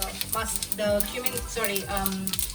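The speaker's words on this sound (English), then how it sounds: "urad dal, and your peppercorns, and just stir it" Urad dal and peppercorns sizzle in hot oil while being stirred, with a steady close frying hiss broken by scraping stirs.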